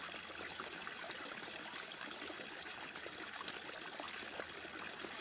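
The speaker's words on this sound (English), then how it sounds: "The sound of this fountain is really beautiful, It's very deep, isn't it, the sound?" Garden fountain water falls steadily into a deep pool, giving a soft, continuous trickling splash with faint droplet patter, alone and fairly quiet.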